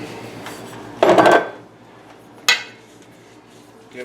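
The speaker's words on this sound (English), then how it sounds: "Give that a good stir." A utensil scrapes and clinks inside a pot while muscadine juice and white sugar are stirred, with one longer scraping pass followed by a sharp clink, near and clear over quiet room noise.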